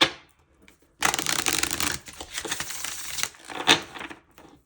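A deck of tarot cards is shuffled by hand in a burst of brisk riffling and rustling, fairly close, with soft handling sounds before and after and no talking.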